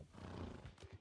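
A Mustang horse in the Red Dead Redemption 2 video game gives a short, close neigh with a breathy whinny, with faint hoof clip-clop underneath, no talk.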